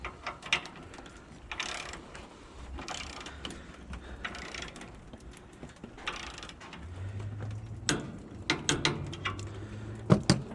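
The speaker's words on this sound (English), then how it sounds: "I'm just going to go right to torquing it." Ratchet clicks while tensioning the blade on a Woodland Mills portable sawmill, a few sharp close clicks and short mechanical ratcheting bursts near the end over a low hum and faint background noise.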